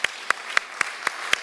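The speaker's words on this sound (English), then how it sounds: "big round of applause to all of the support and action group facilitators" Six evenly spaced claps ring out, each sharp and distinct, over a faint bed of scattered audience clapping at a program gathering honoring support and action group facilitators.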